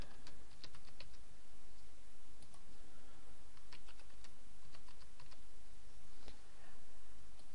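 Rapid typing on a computer keyboard while entering a new password during a WordPress setup, steady clicky keystrokes close by with no talking.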